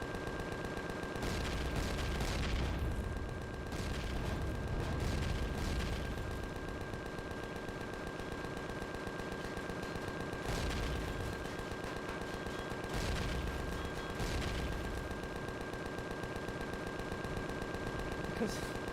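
Repeated explosions and debris bursting in the space survival video game Empyrion Galactic Survival, loud dense blasts and rumbling over a constant steady hum, with a voice talking in between.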